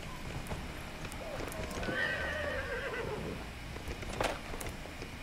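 Horse whinnies in a Dragon Age Inquisition style video game, one long neigh in the middle with hoof clip-clop and game ambience around it, fairly close.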